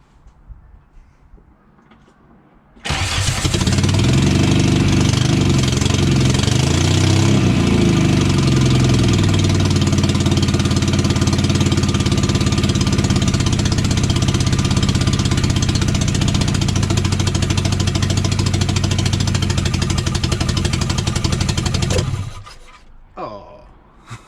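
A VW Golf Mk2 that sat unused for five years cranks, fires and settles into a loud, rough, steady idle for about twenty seconds before shutting off.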